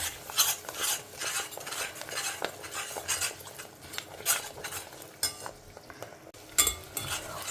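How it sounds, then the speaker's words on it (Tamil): Garlic frying in hot oil is stirred with a metal utensil, giving repeated clinks and scrapes against the pan over a soft, continuous sizzle. "பூண்டு வந்து நல்லா பொரியணும் எண்ணெயில்"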